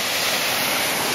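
The waterfall at Scotts Run near Great Falls, Virginia, rushing as a steady, dense roar of falling water, loud and close with no breaks or other sounds over it.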